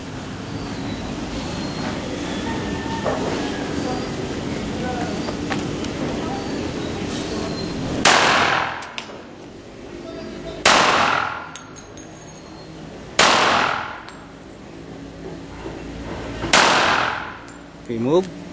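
Four loud, sharp gunshots ring out a few seconds apart at firing practice at Camp Karingal, each followed by a decaying echo, after a stretch of background chatter and ambient noise.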